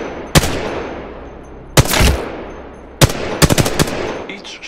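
Gunfire from the video game Apex Legends: sharp single shots, then short bursts of three to four rapid rounds, loud and close, with brief echoing tails between them and no talk.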